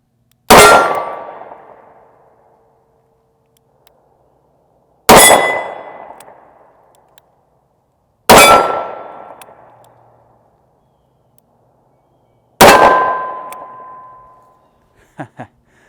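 A Smith & Wesson 640 revolver with a 2 1/8 inch barrel firing .38 rounds at steel targets about 16 yards away, four loud separate shots, each with a ringing metallic clang that decays over a second or two, then faint clicks.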